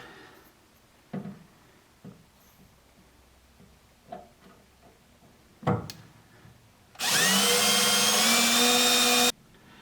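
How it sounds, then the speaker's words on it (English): A few light taps and clicks, then a power drill whines loudly and steadily for a couple of seconds, close up, drilling holes while a fuel regulator is installed on a 1969 Camaro. "Alright, now let's drill."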